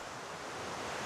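Rushing water at Ranmudu Ella, a waterfall near the Seethawaka wet zone park in Sri Lanka, gives a faint, steady broadband hiss with no voices.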